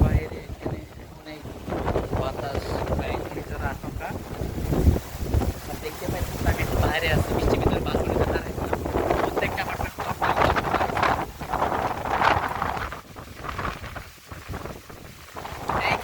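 Wind and heavy rain lash down during a storm on Cyprus, a steady roaring wash of gusts and downpour filling the whole stretch, with muffled voices talking underneath.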